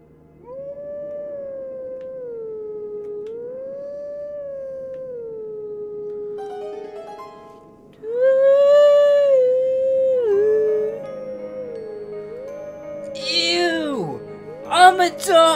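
In Zelda: Twilight Princess, a dog gives long, wavering howls, sustained tonal calls rising and falling, with higher yips and a swooping whine near the end, loud and close amid game sounds.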